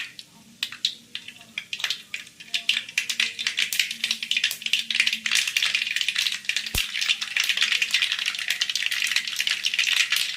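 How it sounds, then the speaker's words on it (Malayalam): Mustard seeds pop in hot coconut oil for a Kerala carrot thoran, a dense run of sharp crackles and spatters that begins sparse and quickly builds to continuous, close popping. "എണ്ണ ചൂടാകുമ്പോൾ കടുകിടാൻ പോവുക."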